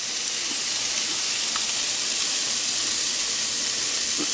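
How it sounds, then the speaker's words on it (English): Garlic and spices sizzling with translucent onions in a hot pan, a steady close, loud hiss that holds unbroken throughout with a few faint clicks and taps of the pan. "it's time to throw in my 6 cloves of garlic, along with all of my spices"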